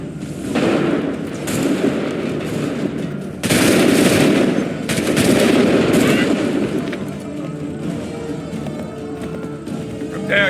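Musket volleys in Assassin's Creed 3: loud massed crackling gunfire erupts in several sustained waves, each dense and booming, with voices briefly audible between them.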